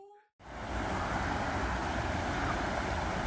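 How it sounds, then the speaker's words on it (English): Running water starts abruptly after a brief pause and then pours steadily as a broad, even rush, close and constant throughout, with no talking. "Isn't it soothing, the sound of running water?"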